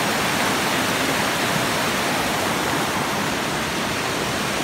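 Rushing river water flowing steadily along a hiking trail, a loud, dense broadband roar with no breaks, close by and with no voices.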